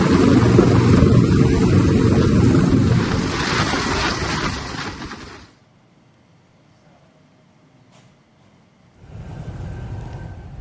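Helicopter delivering flood relief aid in Aceh, heard as a loud, steady rotor and engine roar for about five seconds, then a quiet gap and the roar returning near the end.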